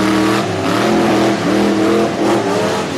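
Racing trucks in a Storm Tough Truck event at Brookville, PA roar loudly through a corner, engines revving and rising in pitch in quick surges, close and continuous.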